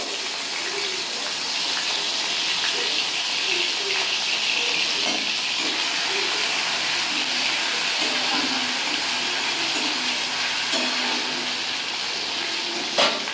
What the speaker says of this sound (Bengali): তেলটা গরম হয়ে গেছে। ওই তেলের মধ্যে আমি যে আদা রসুনটাকে পেস্ট করে রেখেছি, প্রথমে আমি ওগুলোকে দিয়ে দেবো